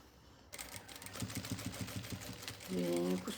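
Sewing machine stitching a fabric toiletry bag, a quick rhythmic run of needle clatter that starts abruptly and continues steadily, with a brief higher whirring burst near the end; a voice is faintly present.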